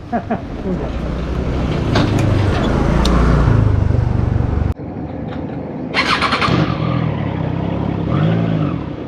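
A Triumph Trident 660 motorcycle pulls away from a fuel stop, its engine rumbling loud and close, rising as it revs and shifts, with wind noise and a voice talking over it.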